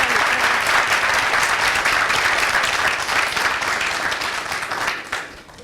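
A studio audience gives a thunderous ovation, loud dense clapping that holds steady, then tapers and fades out at the very end.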